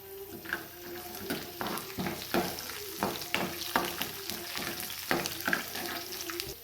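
Chopped chilies and other ingredients roast in a hot pan with a steady sizzle, while a spoon stirs and scrapes in a regular rhythm. The sound is close and moderately quiet, with no talking.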